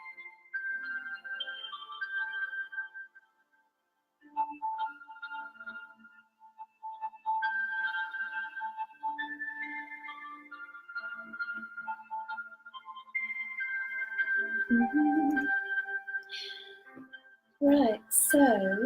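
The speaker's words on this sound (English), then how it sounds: "That's the sound of the pink plant." Soft electronic tones generated from a pink plant through a sonification app, a slow wandering melody of sustained synth notes with brief gaps, faint and close, with a few spoken words near the end.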